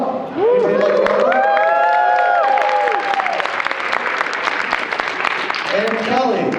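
A live convention crowd at a USA Sumo event at Otakon Vegas 2014 claps and cheers loudly for sumo wrestler Byamba, a steady roar of applause with whoops rising over it.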